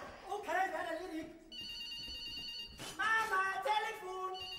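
A telephone rings in a Bavarian folk theatre stage comedy, a steady electronic ring heard between bursts of speech, moderately close.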